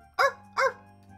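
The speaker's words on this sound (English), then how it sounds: "Yep, that's how dogs bark." A dog in a video game barks twice in quick succession, two short, clear, close barks with nothing else around them.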